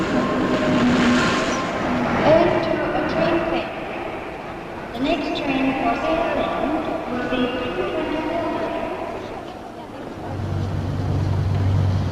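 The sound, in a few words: train running on the West Coast Main Line, 1969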